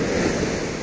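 Ocean waves break and wash onto Icacos beach in Acapulco, a steady close roar of surf with wind buffeting the microphone, loud and continuous throughout.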